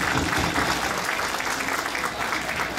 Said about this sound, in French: Alors, applaudissons